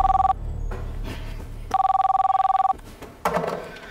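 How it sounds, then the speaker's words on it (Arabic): A telephone rings in a scene from an Egyptian TV drama series, sounding two clear, loud bursts of trilling ring separated by a short pause, with some faint background noise and a brief clatter afterward. "رد على التليفون"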